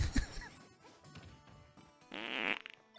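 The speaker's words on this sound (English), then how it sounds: "Another fart." A cartoonish fart sound effect in Super Smash Bros. Ultimate, a short buzzing, wobbling blast rising out of quieter game sounds near the end, with brief thuds and hits before it.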